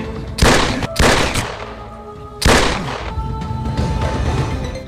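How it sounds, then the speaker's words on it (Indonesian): Loud bursts of gunfire ring out close by, two quick volleys then another heavy burst, with dense rattling echoes filling the gaps. "ia diberondong belasan pelor"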